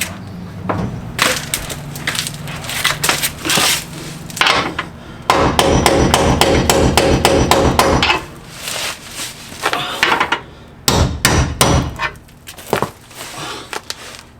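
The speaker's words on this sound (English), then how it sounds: "Big hammer." A big hammer pounds car subframe bushings into place: bursts of heavy, close, sharp knocks, some in rapid flurries and others spaced apart, loud and solid with a wooden, thwacking edge.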